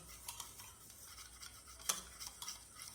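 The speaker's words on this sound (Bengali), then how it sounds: "টক দইয়ের সঙ্গে চিনিটাকে খুব সুন্দর করে মিশিয়ে নেব। সম্পূর্ণ চিনিটা গলে যাওয়া অবধি আমি এইভাবে মেশাতে থাকবো।" A spoon stirring sugar into sour yogurt in a bowl, soft repeated scraping strokes with a few sharper clinks against the bowl, quiet and close.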